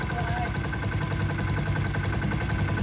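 Small Honda CD70-class motorcycle engine idling steadily after its idle speed is turned down, an even low putter close by with a constant high whine above it.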